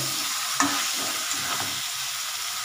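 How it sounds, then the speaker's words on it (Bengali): Cauliflower and potato being stirred in a hot frying pan, with a steady sizzle of frying and several distinct scraping stirs close to the microphone, no voices. "এই ফুলকপি আলুটা দিয়েছি। এবার আমি এটাকে একটু নাড়াচাড়া দিয়ে"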